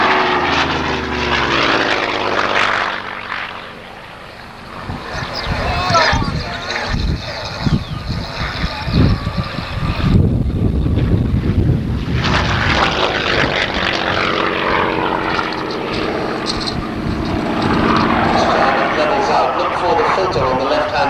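A propeller aircraft belonging to the RAF flies at an airshow, its loud droning engine and whirring propeller swelling and fading as it passes, with a commentator speaking over the noise.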